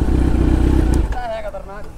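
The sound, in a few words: Kawasaki Z900 motorcycle engine revving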